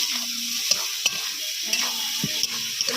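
Chopped tomatoes go into onions already frying with salt and turmeric in a pan. A loud, close sizzle is broken by scraping stirs and a few sharp clinks of the spatula.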